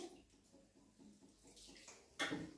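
Rice and moong dal being rinsed by hand in a bowl of water while making dhaba-style khichdi, with soft sloshing and swishing that swells into a louder splash near the end.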